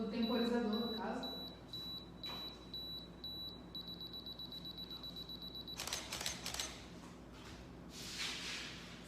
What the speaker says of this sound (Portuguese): Vamos esperar o tempo do obturador, ou do temporizador, no caso.